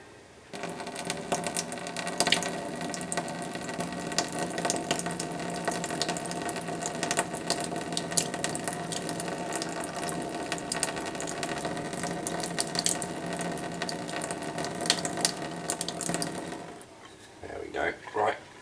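Wort draining from a Braumeister home brew machine makes a steady, close splashing and running flow with mechanical rattling that lasts most of the stretch before stopping near the end.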